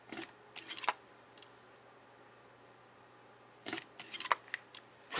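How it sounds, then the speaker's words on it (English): A hole punch cuts binding holes in paper, giving two clusters of sharp crisp clicks and crunches close up, separated by a quiet pause. "I'm just going to line up my paper and punch out all 5 of these holes"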